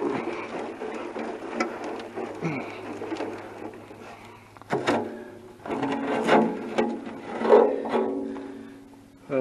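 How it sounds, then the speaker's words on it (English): Gas tank from an International 400 tumbled by hand to loosen rust, with irregular rattling, scraping and thudding as debris shifts inside, louder bursts in the second half. "Should tumble the gas tank around for a while,"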